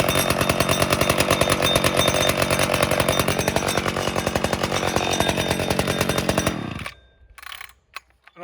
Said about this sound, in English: So I'm going to pull it now without choke.